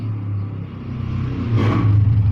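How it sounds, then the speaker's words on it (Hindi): Motorcycles pass by outdoors as a steady engine rumble and whir that swells midway, with a brief louder surge as one rides past before the hum continues. "यार ये बाहर बहुत मोटरसाइकिलें जा रहे हैं"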